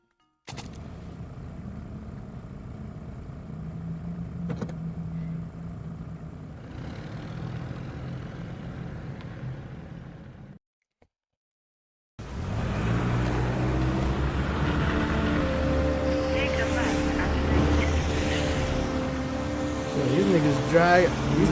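A car engine in the video game Heavy Rain drones continuously, quieter at first, then cutting out briefly before returning louder and busier.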